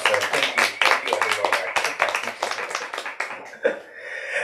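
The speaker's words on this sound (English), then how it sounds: "We can go ahead and do a round of applause." Audience at a bookstore reading claps, a loose burst of applause with a voice speaking over it.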